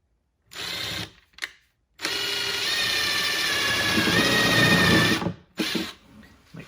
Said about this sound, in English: drill a pilot hole in the counter bore for some screws inside